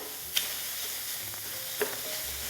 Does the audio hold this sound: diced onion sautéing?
yes